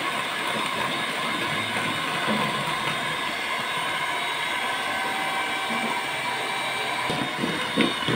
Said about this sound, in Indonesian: Ini untuk tahap pengadukan, pengocokan pakai mixer